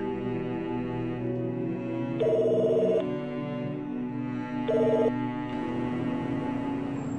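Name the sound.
telephone ringing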